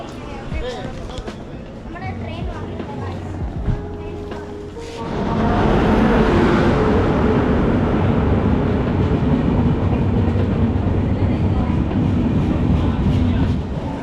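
People talk amid station noise, then a train roars into the railway station loudly, a heavy rumbling rush of wheels and carriages passing close by.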